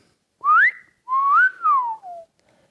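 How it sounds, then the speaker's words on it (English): A person whistles a short melodic phrase of four rising and falling notes, clear and close, in a quiet room with no talking. "go ahead and do that whistle when we start rolling"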